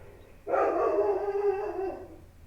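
A pet dog gives one drawn-out, whining bark that slides into a howl, lasting about a second and a half, fairly close and clear against a quiet room.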